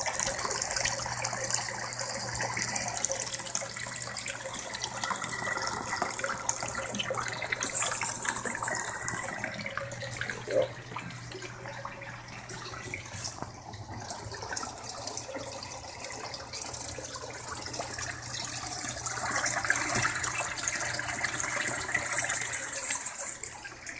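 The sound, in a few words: water flowing into tank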